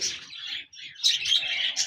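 A small bird chirps and tweets continuously at close range, bright high-pitched calls with a brief pause, no voices.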